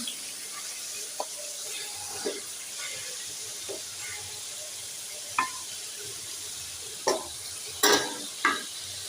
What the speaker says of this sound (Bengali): এখানে সব ধনের মশলা দিয়েছি দিয়ে কষে হচ্ছে